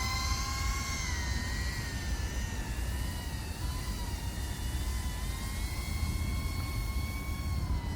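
A drone flies with a DJI Osmo Pocket 3 camera mounted on it, giving off a steady whining buzz with faint wavering propeller tones over a constant wash of wind and rotor noise, with no one speaking.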